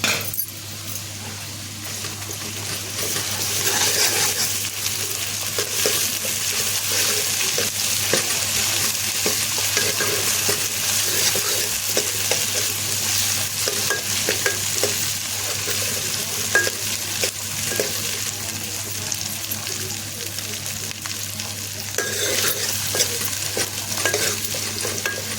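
A spoonful of ginger paste frying in tempering oil with onion and chili, a loud continuous sizzle with repeated stirring and light scraping of the pan, no voices.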